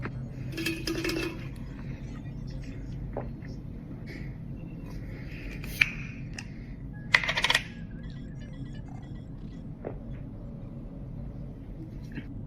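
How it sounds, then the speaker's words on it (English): Keyboard tapping and clicks mix with a bright glassy bottle ding and a few sharp clinks over a steady low background hum, fairly faint with occasional louder transients. "The clicky clack of the keyboard, the tappy tap, the bottle ding"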